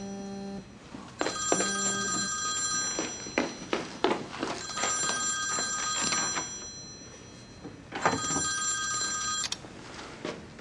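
A telephone rings in repeated bursts while a call is placed, each ring a bright trilling tone separated by short pauses, heard clearly and alone.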